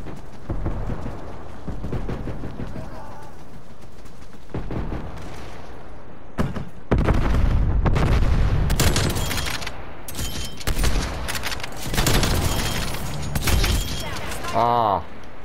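Heavy turret gunfire and explosive blasts in the video game Call of Duty Cold War, booming bursts that grow louder midway, with a player talking over the chaotic action.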